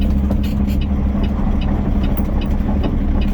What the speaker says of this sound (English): Into the dirt we go with a clean truck